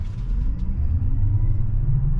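A 2024 Kia EV6 GT Line long-range electric car with a single rear motor accelerates, heard from inside as a steady low road rumble with a faint rising whine, loud and close, without speech.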